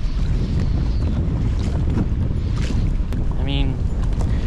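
Strong storm wind buffets the microphone in a constant loud roar aboard an Old Town Sportsman 106 pedal kayak, with a brief voice rising near the end.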